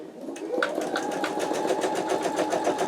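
An embroidery sewing machine stitches an in-the-hoop wallet, a steady continuous whir with a fast rapid needle pulse, close and loud throughout with no talk.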